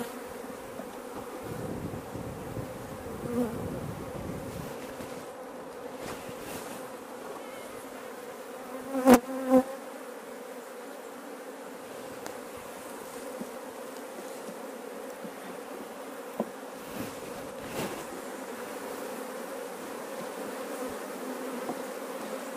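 A swarm of Apis honey bees drones steadily during a hive split, with the buzzing constant and close throughout and a couple of brief knocks near the middle.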